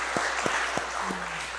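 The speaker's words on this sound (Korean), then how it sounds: "여러분 아민 양을 위해서 한번 큰 박수 한번 해드릴까요?" Applause from a church congregation at a family worship service, a steady wash of clapping with a few sharper individual claps standing out, fairly close and sustained.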